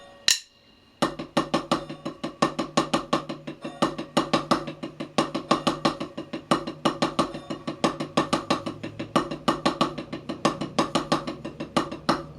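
Drums play a triple paradiddle rudiment with accents on the downbeats, a steady, rapid stream of close, crisp strokes with regular louder accented hits, following one isolated opening strike.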